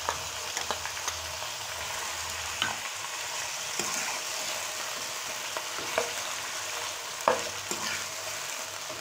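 Ginger garlic paste sizzling in hot oil in a karahi while being stirred, a steady soft frying hiss with occasional scraping clicks of the spoon, fairly quiet and without talk.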